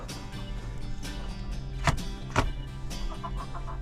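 Chickens in a henhouse: soft, scattered clucks and short squawks over a steady low background hum, close by and moderately quiet, with no talking.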